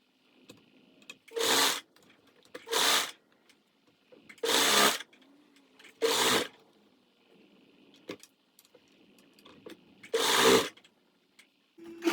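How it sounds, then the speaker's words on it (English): Sewing machine topstitching a stretch bodysuit: six short whirring bursts of rapid stitching, each a second or so, separated by quiet pauses with small handling clicks, close by. "You want to top stitch"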